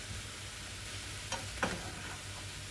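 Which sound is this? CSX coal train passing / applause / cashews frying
cashews frying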